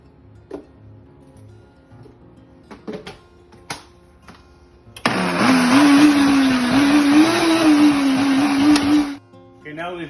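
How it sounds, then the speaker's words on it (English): A small Ninja blender powders freeze-dried raw eggs, starting abruptly after some light clicks and handling sounds, then running loud and steady for about four seconds with a rising whir before cutting off. "I'm gonna powderize these in the little Ninja blender real quick."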